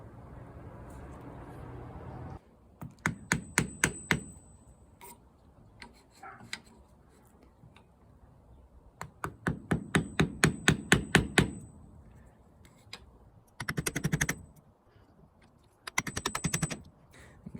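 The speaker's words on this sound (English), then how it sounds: "we're going to take the little block of wood and the hammer and evenly pound it on until it sits flush with the top of the fork there." A hammer strikes a small wood block to seat the crown race on a Fox mountain bike fork, in several quick bursts of sharp, evenly spaced taps with short quiet pauses between, close and fairly loud.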